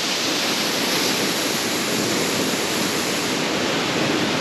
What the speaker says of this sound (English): Really, really pretty waterfall.